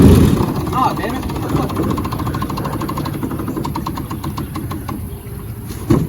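A small outboard boat motor runs on a river with a steady low mechanical drone and rapid knocking pulses, close and fairly loud throughout, briefly faltering near the end while people talk over it.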